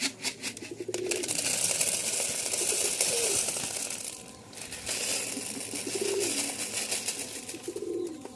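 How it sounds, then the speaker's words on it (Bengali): Domestic pigeons at a home loft coo in several rolling bursts while being fed, mixed with close rustling and crinkling sounds. "বাড়ির যে কবুতর গোলা আছে আমরা সেগুলোকে খাবার দিব"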